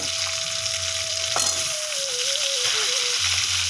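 Potatoes frying in oil in a home kitchen, a loud, steady, bright sizzle that fills the whole stretch, with a faint tone sliding underneath and no talk.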